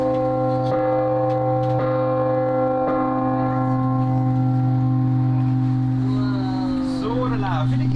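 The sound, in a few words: clock bell ringing at Hohenwerfen Castle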